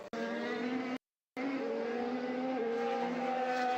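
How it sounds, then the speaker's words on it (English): A race car in the F1 2015 video game loses control and spins into the barriers, its engine droning loud and steady with tire squeal woven in, broken by a short moment of silence before the engine noise resumes. "Complete driver way in and a tank slapper into the barriers."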